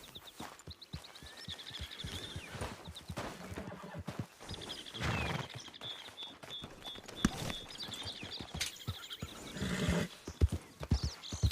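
Horse hooves clip-clop steadily in a video game, with repeated whinnies and neighs rising over the footfalls, close and fairly loud throughout.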